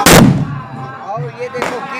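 Firecrackers bursting during Govardhan Puja village festivities, two loud sharp blasts about a second and a half apart, close by, with voices talking faintly between them.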